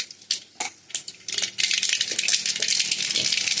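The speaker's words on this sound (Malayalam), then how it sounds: "നമുക്കിതിലേക്ക് കടുക് പൊട്ടിക്കാം." Mustard seeds splutter in hot oil after garlic has been fried brown, a loud dense crackling and rattling that builds midway after a few sharp pops and carries on without talk.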